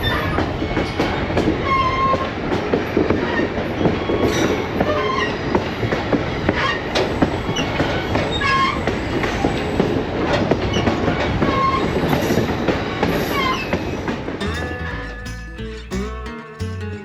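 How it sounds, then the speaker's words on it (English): A Western Maryland Scenic Railroad passenger train rumbles through a tunnel, a loud, continuous roar of wheels and enclosed echo with faint clicks, sustained throughout before easing near the end. "This is one of the tunnels that you go through on the train"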